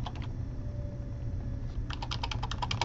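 Typing on a computer keyboard, faint keystrokes at first, then a quick run of crisp clicks near the end over a low background hum.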